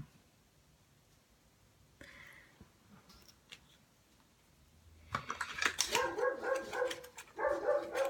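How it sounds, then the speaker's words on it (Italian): A pet dog indoors barks in quick bursts in the second half, loud and close, after faint scattered clicks and taps in a quiet room; no one speaks. "sentite abbaiare, scusate, ma è il mio cane"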